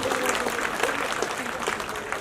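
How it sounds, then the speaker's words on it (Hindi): Applause from a crowd at a Congress party rally in Badli welcoming a speaker, a steady broadband clatter of clapping that holds evenly throughout without fading. "एक बार जोरदार तालियों से इनका भी स्वागत करिए भाई।"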